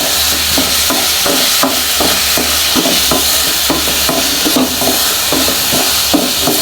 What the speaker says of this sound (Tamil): ஆயிலே கொஞ்சம் குக் ஆகட்டும் ஒரு அஞ்சு நிமிஷம்